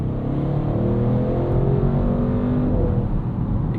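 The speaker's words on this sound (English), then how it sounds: "Exhaust has opened up." A 2025 Audi RS6 Avant's twin-turbo V8 roars loudly and steadily from close by with its exhaust opened, rising under acceleration as a continuous deep engine drone.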